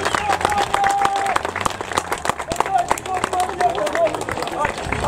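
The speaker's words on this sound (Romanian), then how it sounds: "Aplauze, podium," Applause and clapping from a crowd fill the air at a drift championship podium ceremony in Prejmer, steady and lively, with voices mixed into the crowd noise.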